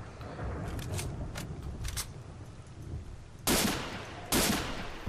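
A semi-automatic gun fires in S.T.A.L.K.E.R.: Call of Pripyat with the Misery mod: a few faint distant reports, then two loud, sharp close shots spaced under a second apart near the end, with no talking.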